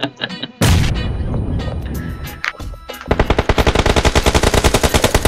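Bursts of gunfire in PUBG Mobile: an opening shot, then a loud sustained volley, and finally rapid automatic fire in a steady rhythm, close and dense with no speech.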